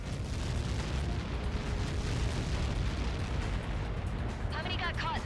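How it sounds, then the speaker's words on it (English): A massive explosion in the combat flight game Ace Combat 7 rumbles as a continuous, dense roar that fills the whole stretch, heavy and sustained, with radio chatter voices coming in near the end. "How many got caught in that explosion?"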